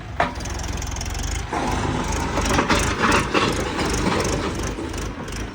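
A Mahindra tractor engine pulls away in gear M4, a rough low mechanical drone with rattling clanks that steps up in load about a third of the way in, heard close without talk.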